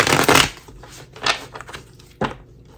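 A tarot card deck is shuffled by hand, producing several distinct riffling bursts: a long one at the start, then shorter ones spaced apart, close and fairly loud with no voices.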